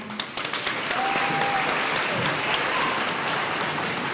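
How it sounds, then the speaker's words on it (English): Applause from the audience at a school Veterans Day assembly, rising quickly into sustained, full crowd clapping that holds steady and fairly loud, with a faint voice briefly under it. "I would like to give a big round of applause to our advanced U.S. history students"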